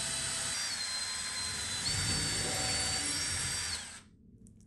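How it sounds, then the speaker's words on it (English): A power drill whines steadily at high speed for about four seconds, pitch shifting slightly as it bites, then stops abruptly, drilling pilot holes for screws while installing a bathroom vanity. "drill the pilot holes for the screws"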